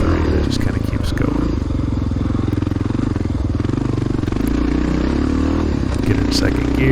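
A 1993 Honda XR600R motorcycle roars steadily as it climbs a big, rough hill in a cross-country race, its loud, close thumping engine note holding in second gear with faint rattles and a rider's voice over it.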